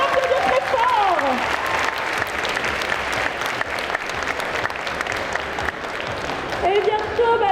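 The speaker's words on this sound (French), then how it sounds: "Bravo, on peut l'applaudir très fort." An audience applauds a performer at a cosplay contest at Bordeaux Geekfest, dense clapping from a crowd with scattered cheers and whistles rising over it near the start and the end.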